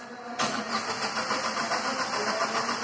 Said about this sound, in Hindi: अभी मैं क्रैंकिंग और करता हूँ,